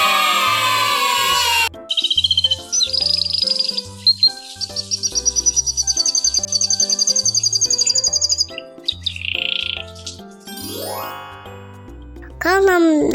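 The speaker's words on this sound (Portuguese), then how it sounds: "Canário." A canary sings in long bright trilling phrases over a steady musical backing, with short chimes and a rising sweep near the end, in a quiz-style bird sound sequence.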